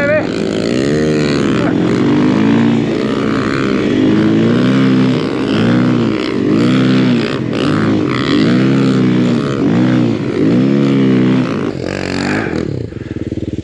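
Timbersled ARO 3 snow bike engine while riding: a loud, close motor revving up and down in repeated surges, the pitch rising and falling as the throttle opens and eases, with some talk over it.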